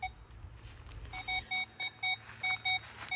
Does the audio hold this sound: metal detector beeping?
yes